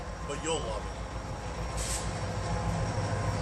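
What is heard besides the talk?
passing train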